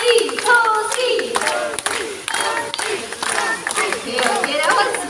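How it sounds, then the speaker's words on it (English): At a bird park presentation, an audience claps in rhythm while chanting a name in support of a blue and yellow macaw, a loud crowd of mixed voices with hand claps repeating in bursts. "all you have to do is clap your hands and you go Toasty, Toasty"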